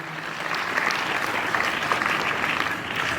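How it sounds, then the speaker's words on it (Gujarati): Sustained, dense clapping from a crowd gathered at a primary school's 15 August Independence Day celebration, steady and fairly loud throughout with no talk over it. "એક વખત ફરી એક વખત એમના માટે જોરદાર તાળીઓ"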